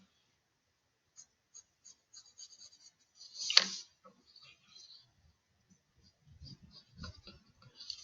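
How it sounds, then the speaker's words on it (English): Pencil or pen sketching a reflected triangle by hand on paper, heard as soft scattered scratches and taps close up, with one louder stroke partway through, in an otherwise quiet room. "I'm going to go ahead and sketch this one so you can see it on the reflected image."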